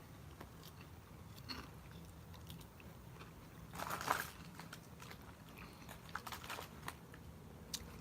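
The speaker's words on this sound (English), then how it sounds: "Batter is crunchy and delicious." Battered fish from a fish and chips meal is bitten and chewed close up, with soft crunches scattered throughout and a louder crunchy burst midway, with no talking.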